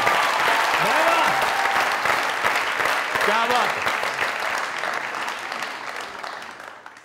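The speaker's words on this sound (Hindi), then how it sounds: "जोरदार तालियां" Loud audience applause erupts on a comedy show stage, broad crowd clapping throughout, with a voice speaking over it at moments as the noise gradually eases.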